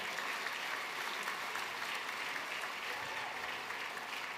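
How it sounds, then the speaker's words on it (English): Steady, full applause from an audience at a business hall of fame gala, greeting young pitch presenters; dense, sustained clapping holds at an even level throughout with no break. "Let's give these courageous kids a round of applause,"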